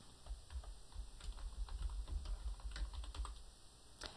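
Typing on a computer keyboard, a steady patter of key clicks running throughout at close range with no voices.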